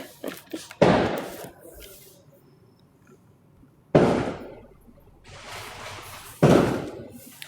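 Three sharp, loud bangs spaced a few seconds apart, each with a brief crackling tail, set against a quiet background.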